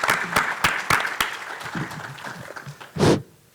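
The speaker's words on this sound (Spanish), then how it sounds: "Un aplauso, por favor, para el doctor Albarrán y le cedo la palabra." Applause from a seated audience at a technology conference for a doctor taking the floor, sharp distinct claps that thin out and end with a final burst before quiet.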